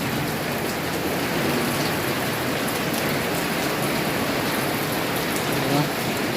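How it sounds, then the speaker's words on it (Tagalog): Heavy rain pours steadily and densely, a constant loud hiss with no letup, close around, with leaks dripping inside a house. "Bumuhos ang malakas na ulan."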